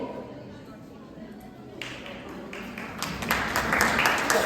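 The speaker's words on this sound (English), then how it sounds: "Give a big round of applause to our performer" Applause for dance performers at a women's empowerment event starts scattered over a low murmur, then swells into louder, denser clapping from a crowd.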